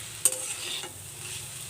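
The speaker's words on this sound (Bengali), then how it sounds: "আবারও নেড়ে নেব।" Radish bhaji frying in a pan while it is stirred, with one sharp utensil scrape near the start and a second softer one, followed by a steady low sizzle.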